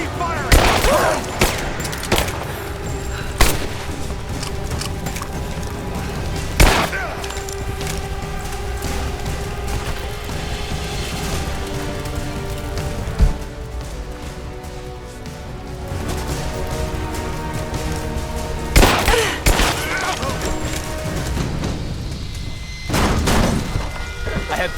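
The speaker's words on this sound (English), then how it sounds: "Keep firing!" Gunfire in Rise of the Tomb Raider, scattered loud shots and heavy booming blasts over a continuous rumbling battle bed, close and punchy with sharp transients every few seconds.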